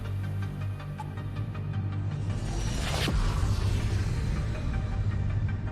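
A ship's hyperdrive charges up in a space survival video game, producing a rumbling, throbbing hum. It builds into a sweeping whoosh around the midpoint, then continues as a steady, moderately loud drone with no voices.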